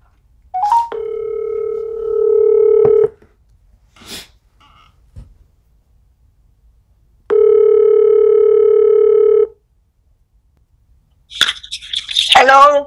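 Two long, steady electronic telephone call tones sound close and loud while a call is being placed, separated by several seconds of silence, with a short burst of voice near the end.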